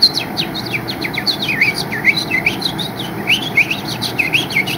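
A man whistles an imitation of a house finch song, a lively run of rapid chirps and warbling tweets repeated throughout, close and fairly loud over a faint steady background hiss.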